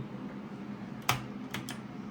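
A few sharp clicks and taps on a computer keyboard as a toddler bashes it, irregular and close, over a steady low room hum.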